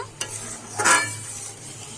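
A spoon stirs a pot of simmering chickpea dal, scraping audibly once near the start and again more strongly midway, over a soft, steady bubbling sizzle with no voices.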